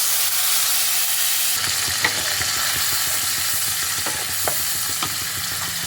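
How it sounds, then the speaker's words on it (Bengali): Spice paste frying in hot oil for a vegetarian cauliflower curry, a quiet hiss that jumps to a loud, steady sizzle as the paste hits the pan, with scattered stirring scrapes. "এবার আমি ওই তেলের মধ্যে দিয়ে দিচ্ছি তৈরি করে রাখা মশলার পেস্ট"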